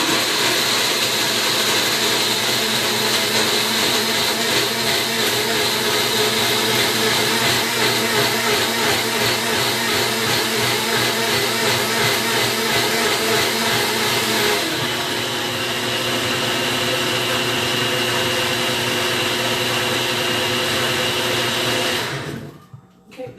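A blender grinds almonds continuously at high speed, loud and close, its whirring pitch shifting slightly midway before it cuts off at the end.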